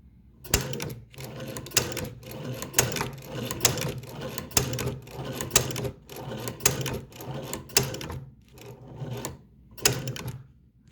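A Chinese leather shoe-patcher sewing machine stitches a diamond stitch test piece in leather, its needle punching in a steady run of sharp mechanical clacks with short pauses between bursts, close and clear with no talk.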